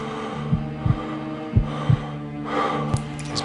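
A racing heartbeat in The Blackstone Chronicles video game thumps in uneven doubled beats over a low hum, breathing sounds growing heavier toward the end.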